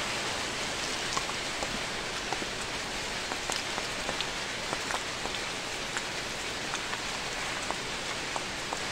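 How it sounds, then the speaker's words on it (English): Steady rain falling outdoors, a dense continuous patter of drops hitting surfaces at even volume throughout. "it rained already"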